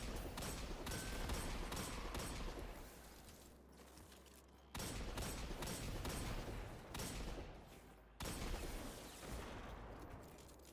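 Hand cannon gunfire in the Destiny video game during Iron Banner: dense, rapid volleys of loud shots with metallic mechanical clatter. The bursts come in three long stretches, each broken by short gaps.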